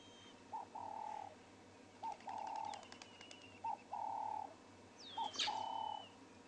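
Wild birds call outdoors during a morning safari in South Africa: four repeated two-part hooting coos, moderately near, with a brief sharp chirp and faint background twittering near the end.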